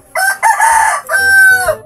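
A three-month-old bantam chicken crows twice, loud and close, the second call long and drawn out, with no talk over it.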